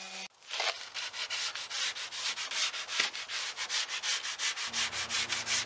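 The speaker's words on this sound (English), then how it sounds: "we've got it sanded off" Hand sanding the veneer top of a mahogany dresser outdoors produces rhythmic back-and-forth rasping strokes, loud and close, repeating steadily for several seconds.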